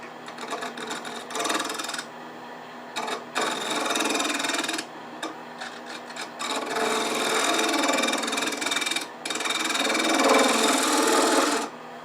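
A wood lathe turns a wooden part for a DIY bird feeder, with a tool cutting and rasping against the spinning wood in long bursts separated by short pauses.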